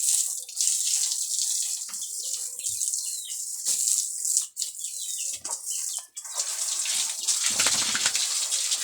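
Water pours and splashes steadily during an outdoor bath, a hissing, rushing stream with a few brief breaks and a louder gush near the end, while chickens sound faintly in the background.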